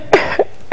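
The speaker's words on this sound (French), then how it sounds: "Oui, et quelle élégance dans la toux" A person coughs three times in a short burst, the first and last hacks strongest and the middle one lighter, close and fairly loud with no talking.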